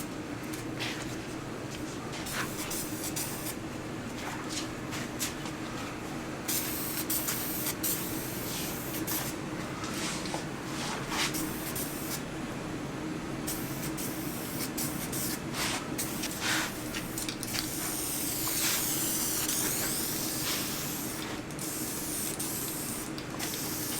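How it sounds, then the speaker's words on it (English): Duplicolor prep spray hissing steadily from an aerosol can onto a turbo Honda Civic hatchback being prepped for Kaiser Silver paint, a continuous close spray with brief pauses over the whole stretch. "Chance is spraying the Duplicolor prep spray on this side over here"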